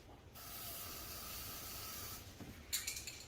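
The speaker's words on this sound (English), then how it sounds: "I'll see if I can spray some in there" A steady hiss from an aerosol can spraying over a bin for about two seconds, quiet and close, then a few small clicks and rustles as it stops.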